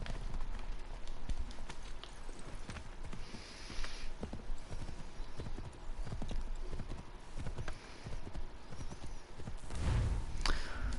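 Horse hooves clip-clop at a gallop in Assassin's Creed III, a quick, steady rhythmic beat of hoof strikes over outdoor ambience with faint game background sounds and a brief louder thump near the end.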